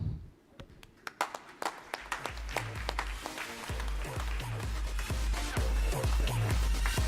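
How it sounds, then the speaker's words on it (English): Audience at a SOLIDWORKS 3DEXPERIENCE Innovation Day event in Kolkata breaks into applause, starting as scattered separate claps and swelling into dense, continuous clapping from a large crowd under a low hum. "A big, huge round of applause to him."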